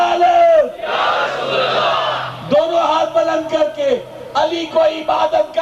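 Large congregation at a religious majlis answering slogans with loud collective shouts, a surging wall of voices followed by a speaker's amplified calls and further crowd responses.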